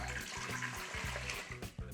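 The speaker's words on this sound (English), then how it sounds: "About 3 cups of water right into the Instant Pot." Water pours into a Baby Yoda Instant Pot, a faint but continuous splashing stream with a slight gurgle.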